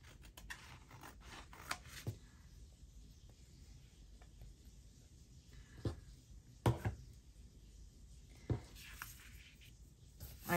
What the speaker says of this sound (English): Could just trim that off with my cutter.